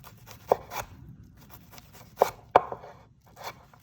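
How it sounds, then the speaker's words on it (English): A kitchen knife dices a shallot on a cutting board, a few sharp separate knocks spaced irregularly against quiet scraping. "cubed up, diced up shallot"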